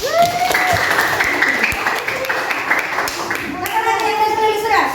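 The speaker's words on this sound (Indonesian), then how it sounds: "Oke, tepuk tangan untuk dia." Students in a classroom clap for a classmate, brief close applause mixed with children's voices and chatter, growing busier toward the end.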